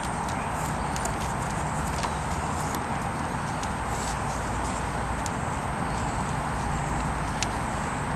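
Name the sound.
horse hooves clip-clopping while being ridden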